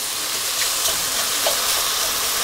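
Apple slices sizzle steadily in a hot pan as they crisp at the edges for an apple cheddar quesadilla, a close, even hiss of frying with faint pops and no speech.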